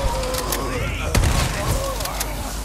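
Firework-like explosions go off in the Resident Evil 4 Remake video game, with sharp bursts cracking over a loud, busy in-game din and a voice present in the mix.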